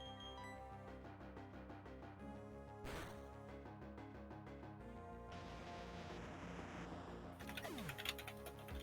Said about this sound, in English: Oh, you got a clicky keyboard.